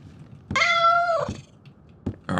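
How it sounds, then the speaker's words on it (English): A pet cat in the video game Road to Vostok gives one clear, drawn-out meow close up, followed by short fragments of another cry near the end, with no talking over it. "We have our kitty. Come on, kitty. Say hi."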